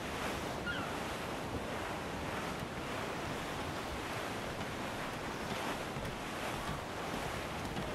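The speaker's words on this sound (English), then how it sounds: "There's a strong wind now." Strong wind and ocean waves at sea in the video game Assassin's Creed 4 make a continuous dense rush of surf and gusting air around a sailing ship, loud and unbroken throughout.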